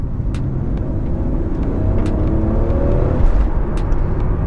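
A Toyota Supra MK4 with a reinforced twin-plate clutch pulls through rush-hour city traffic in Lausanne, its engine a loud, close, steady rumble from inside the car that swells gently as it accelerates.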